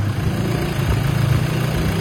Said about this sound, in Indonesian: Nah, ini adalah suara mesin ya daripada Fortuner 2800 yang Euro 4.